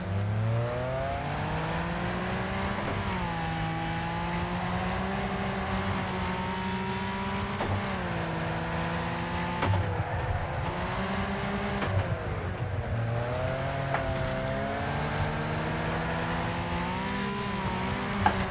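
A race car engine revs and accelerates in the video game Wreckfest, a loud, continuous engine drone that climbs in pitch, drops sharply at gear shifts, then climbs again several times, with no talking.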